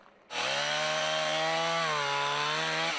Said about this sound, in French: Le bruit des scies mécaniques résonne sur la rivière Sainte-Anne.